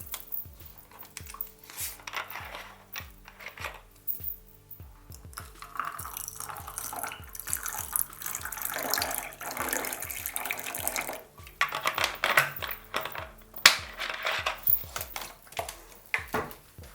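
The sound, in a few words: sparkling water being poured for a drink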